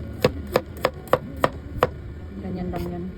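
A knife chops peeled garlic cloves on a cutting board: six sharp, evenly spaced knocks, close and loud. A softer scraping sound and one more chop follow.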